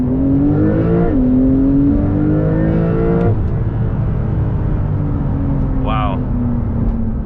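A 2021 Porsche 992 Turbo S in Sport Plus mode pulls hard from inside the cabin, engine tone climbing steadily through quick upshifts, loud and continuous, with a voice speaking over it.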